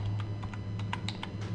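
Keys on a computer keyboard are tapped to enter a web search, a quick run of about a dozen sharp clicks in uneven rhythm, close and clear over a steady low hum.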